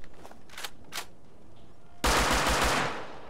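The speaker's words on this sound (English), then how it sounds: "They've got new sounds for the assault rifle, which I'll just grab one now and we'll have a listen." A burst of assault rifle fire from the video game Rust, a rapid string of five or six loud close shots after a quieter stretch of faint clicks and shuffling handling noises.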